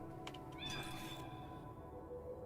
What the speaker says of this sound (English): Instead of you meowing there and giving that robot time